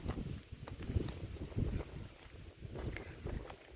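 Strong, dry wind gusts across an outdoor house-building site, a steady low rumble buffeting the microphone with faint rustling and no talking.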